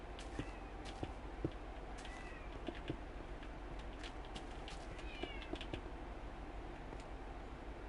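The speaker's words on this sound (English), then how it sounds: "I hear a kitty cat" A house cat meows several times, short and fairly close, over a quiet background with light tapping and footsteps.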